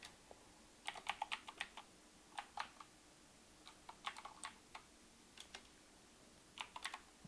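Java code being typed on a computer keyboard, with quiet clusters of rapid key clicks separated by short pauses, close but soft, and no talking.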